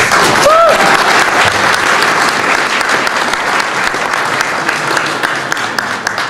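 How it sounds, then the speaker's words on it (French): Sustained, loud audience applause for the Prime Minister of the Democratic Republic of the Congo at a gathering of the Congolese community in Ottawa-Gatineau, steady clapping throughout with a brief cheer near the start. "Est-ce que nous pouvons acclamer?"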